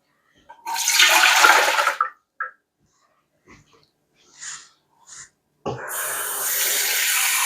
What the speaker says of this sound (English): I just start out with cold water from the sink